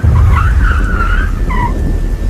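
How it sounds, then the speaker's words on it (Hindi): A loud tire and brake screech rises and wavers for about a second, then a shorter second squeal, over heavy low rumbling noise. "तभी मुझे अपने पीछे गाड़ी के ब्रेक की आवाज़ सुनाई पड़ी"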